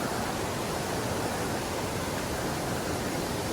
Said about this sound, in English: First real river crossing.